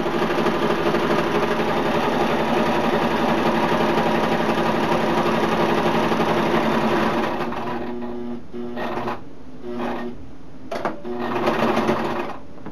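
Electric sewing machine stitching fabric for a DIY hammock ridge line organizer, running steadily and loud for about eight seconds, then stopping and starting in short bursts.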